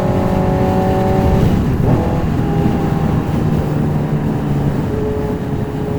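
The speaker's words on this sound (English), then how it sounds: "we're about to get on the freeway ramp, building up some speed" Honda CBR650R motorcycle accelerating up a freeway ramp, a loud, steady engine drone with rising and falling tones through a gear change, heavy wind rush underneath.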